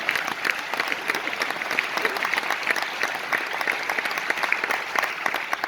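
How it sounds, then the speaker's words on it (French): Dense, sustained applause from a large audience at an event in Roubaix, many hands clapping continuously at a steady loud level with a light crowd murmur underneath. "Applaudissez Yaya"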